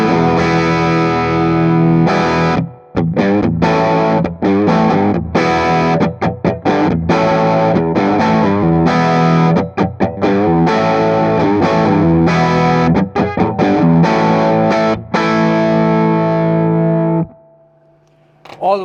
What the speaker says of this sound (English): Now if I were to go to a 10 watt mode, we're going to hear the clipping and the warmth.